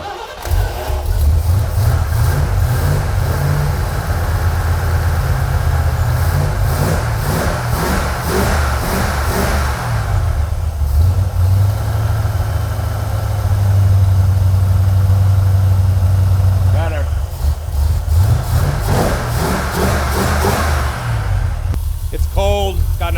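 A 1980 Corvette engine with an empty carburetor bowl, starting and then running loud and close, with repeated revs over a rough idle. Voices talk over it throughout.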